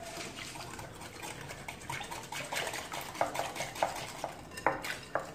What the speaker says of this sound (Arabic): غادي نخلط المكونات مزيان،